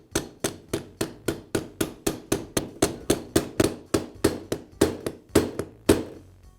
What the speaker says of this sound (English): Now I'll use a socket that has a diameter about the same as the outer race to tap the bearing into